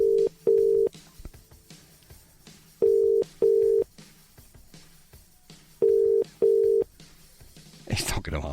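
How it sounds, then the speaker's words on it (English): A phone call back is placed: three pairs of steady ringback tones pulse at even intervals in a quiet line, ending with a brief clatter as the call goes unanswered. "we're going to call them back now and find out if they're going to answer their blower now"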